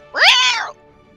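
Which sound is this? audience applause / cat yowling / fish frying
cat yowling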